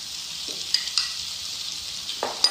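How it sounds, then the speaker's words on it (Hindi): Maida flour sautés in a pan over a medium flame with a soft, steady sizzle, broken by a few scraping stirs of a spoon against the metal, close and moderately loud with no voices. "मैदे को हम इतना भूनेंगे कि इसकी एक अच्छा सी खुशबू आने लग जाए"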